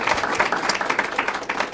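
An audience at a school art gallery event applauds, a dense, continuous patter of many hands, fairly close and steady for the whole short stretch.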